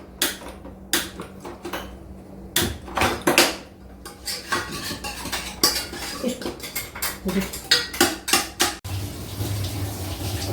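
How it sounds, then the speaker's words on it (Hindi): A utensil scrapes and knocks around inside a pot of boiling chickpea greens in quick, irregular strokes, close by, with wet clinks and some watery splashing. "थोड़ा सा हम इसको चलाते हुए घोट लेंगे"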